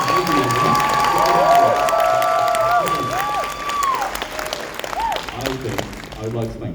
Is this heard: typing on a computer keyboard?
no